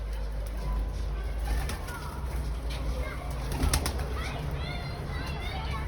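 Soft pigeon coos and rustling from young pigeons kept on a balcony, among a low background rumble, with a brief flutter partway through and faint voices nearby.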